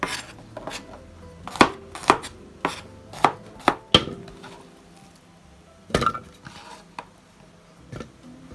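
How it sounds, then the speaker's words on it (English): A knife chops onions, ginger and garlic on a board in a handful of sharp, irregular strokes, close and clear with quiet pauses between and no talk. "Cut the onions. Ginger and garlic."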